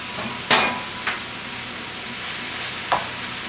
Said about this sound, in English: I'm just going to mix this in. And what we're trying to do is brown this meat.